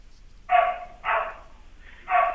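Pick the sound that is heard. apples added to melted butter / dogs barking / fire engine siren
dogs barking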